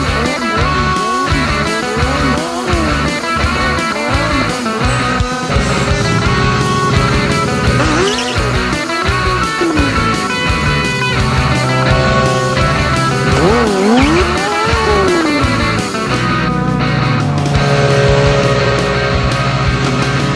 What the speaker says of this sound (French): il y a un petit déséquilibre sur cette moto qui fait que la roue rebondit à l'arrière